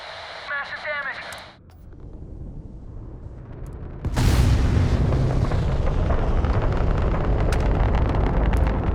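Explosion in a high-energy research lab in the game Starfield: after brief electronic chirps and a quiet lull, a sudden loud blast bursts in and settles into a heavy, sustained rumbling roar.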